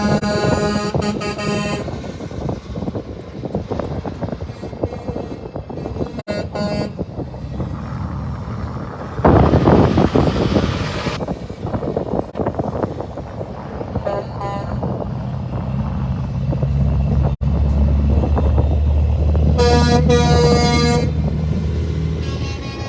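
A convoy of trucks supporting the Special Olympics rolls through Oakley, Kansas with loud, continuous engine roar and rumble. Repeated horn blasts sound near the start and again toward the end, alongside a heavy, surging engine passage in the middle.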